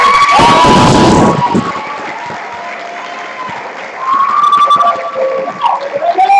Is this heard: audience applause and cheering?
yes